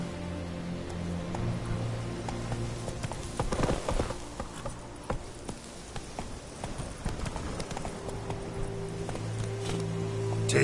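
Geralt's horse Roach clip-clops along in a rhythmic run in The Witcher 3, the hoofbeats steady and close over a low game backdrop with no speech.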